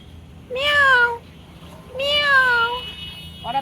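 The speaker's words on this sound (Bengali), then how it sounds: "আর এখানে দেখো একটা বিড়াল" A cat meows twice outdoors, two clear drawn-out calls about a second apart, fairly close and loud, with a third meow just starting at the end; faint background noise between calls.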